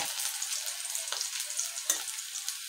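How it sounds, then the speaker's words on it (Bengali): Bitter gourd fries in hot oil, giving a continuous bright sizzle with a few soft stirring scrapes, close by and moderately loud, with no talking. "এই উচ্ছে দিয়ে ডাল করছি, উচ্ছেটা ভেজে নিচ্ছি।"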